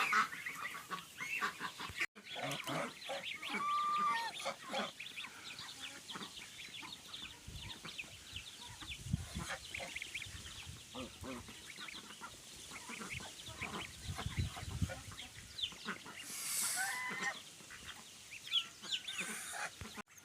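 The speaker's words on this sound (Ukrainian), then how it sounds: "Ось це старі качки, а там вже гусеняти і молоді." Many domestic ducks, geese and goslings quack and honk nearby, a busy overlapping chorus of calls continuing for the whole stretch.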